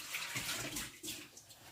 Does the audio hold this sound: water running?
yes